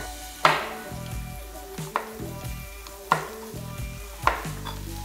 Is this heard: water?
no